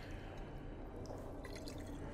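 Water leaking and dripping in Dying Light 2, heard as a faint, steady trickle with scattered soft drips over a low ambient hum.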